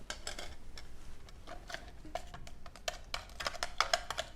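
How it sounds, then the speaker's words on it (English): A child stirring bouncy ball mixture in a cup to dissolve white powder, with irregular light clinks and scrapes of a utensil against the container, faint and close. "Do it until all the white powder dissolves"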